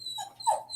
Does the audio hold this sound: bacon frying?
no